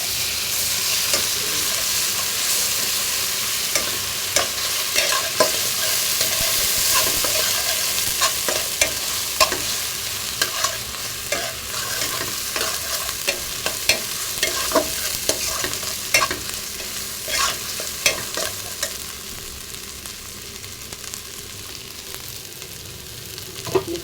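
Ginger and garlic fry in a pan, a steady close sizzle with repeated scraping strokes of a spatula as they are stirred.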